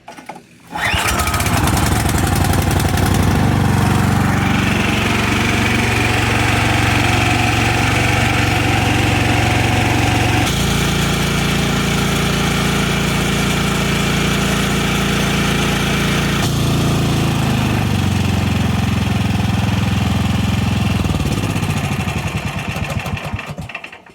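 A small snowblower engine, a Cub Cadet or Troy-Bilt, roars steadily at close range, running loud and continuous for over twenty seconds before cutting off near the end.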